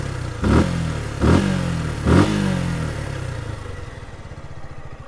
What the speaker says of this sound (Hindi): एग्जॉस्ट साउंड काफ़ी अच्छा है